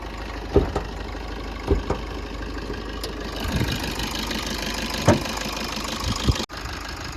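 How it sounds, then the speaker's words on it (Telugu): A Maruti Swift VDi diesel engine idles with the bonnet open, a steady close rumble broken by a few sharp clicks and knocks, with no voices. "ఇప్పుడు ఇంజన్ ఆన్లో ఉంది. మీరు ఇంజన్ సౌండ్ అయితే వినొచ్చు."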